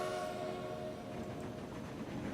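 Trains run on a railway line in the railway-building game Transport Fever, set around 1903, a quiet, steady rolling rumble with faint tonal hum and no talk.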